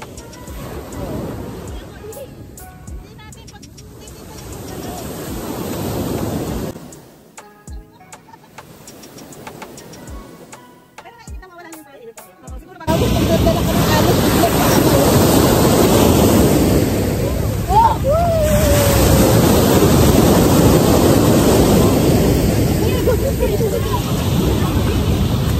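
Big ocean waves crash and surge on a summer beach in Marbella, Spain, with a steady loud roar of surf close by that builds to a constant wash, while people talk nearby.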